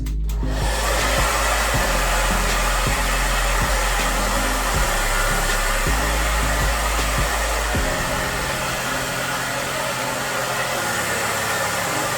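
A hair dryer blows hot air onto wig extensions, a loud constant whooshing drone with a low motor hum that shifts slightly as the dryer moves, running the whole time without speech.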